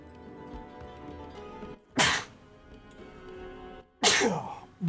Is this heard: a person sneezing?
yes